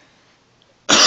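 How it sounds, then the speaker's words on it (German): A single sharp cough bursts out at the end after near silence, loud and close, during a home music-collection review. "Ich muss mal kurz husten"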